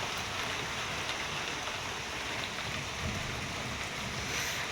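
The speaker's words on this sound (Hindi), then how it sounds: "अभी अभी मौसम चेंज हो गया, भयंकर बारिश लग गई" Heavy rain pours down outdoors as a dense, unbroken hiss that stays loud and constant throughout.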